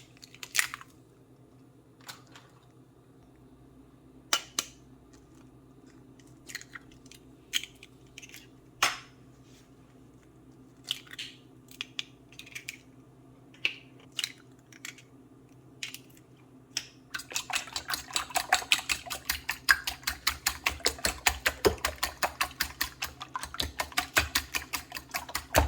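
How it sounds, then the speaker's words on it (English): Five room-temperature eggs being beaten by hand, sparse clicks and taps at first, then a fast, steady rapid whisking rhythm for the last several seconds, close and crisp, with no talking. "Now I'll beat about 5 eggs, home temperature eggs."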